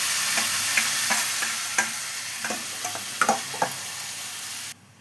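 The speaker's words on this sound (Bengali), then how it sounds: "এবার আমি এতে এই যে মাংস মাখাটা যে রেখেছি আম কাসুন্দি দিয়ে সেটাকে আমি দিয়ে দিই" Chicken marinated in mango kasundi fries with onions in a pan, a continuous sizzle punctuated by a series of sharp utensil scrapes and taps while it is stirred, ending abruptly.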